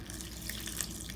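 Water running steadily from a kitchen tap into a sink, a soft continuous hiss with faint splashing, alone and fairly quiet.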